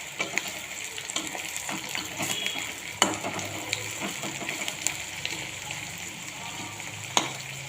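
Chicken frying in hot reddened oil, a continuous close sizzle with frequent stirring scrapes and occasional sharp clinks of the utensil against the pan.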